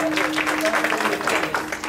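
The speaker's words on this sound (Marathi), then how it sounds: "आमच्या पेटीवाल्या दादांसाठी एकदा टाळी वाजवबर का फार सुंदर वाजवता." Audience clapping at a Marathi kirtan, a steady patter of many hands under a sustained harmonium tone, fairly close and continuous for a couple of seconds.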